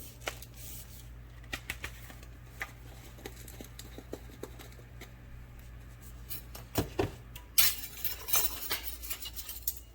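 Metal spoon scooping whole black peppercorns from a container, a series of soft ticks and clinks followed by a louder rattling pour near the end, close and fairly quiet.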